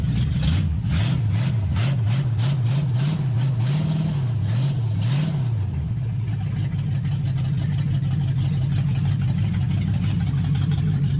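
A 1969 Chrysler 300 with a 440 engine runs loud and close at its first start, exhaust not yet hooked up: the rough idle wavers up and down in repeated rev swells, then settles into a steady, throbbing idle.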